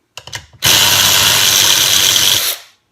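A 20V cordless ratchet whirs loudly and steadily for about two seconds, spinning bolts that turn freely inside wood, preceded by a few short bursts of the motor.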